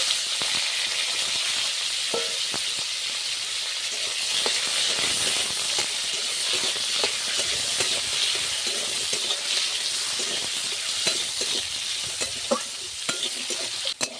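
Chopped mango frying in oil with mustard seeds and turmeric gives a constant close hiss and sizzle, broken by frequent scraping stirs and small pops of spoon against pan.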